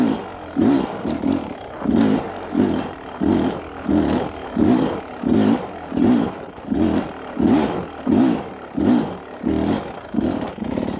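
An enduro motorcycle crawling slowly with soft clutch pulls, its engine blipping in evenly spaced loud revs, about a dozen pulses close by in steady rhythm.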